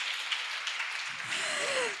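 Applause from a seminar audience at a spiritual talk on karma, a broad steady wash of clapping lasting about two seconds, with faint low murmuring underneath toward the end.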